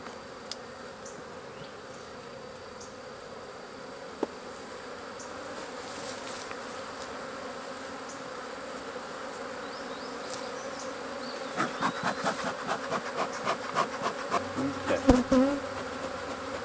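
A rescued honey bee colony from a hollow tree buzzes with a steady, agitated drone. Louder bees fly close past in the final seconds, and a few soft taps are heard.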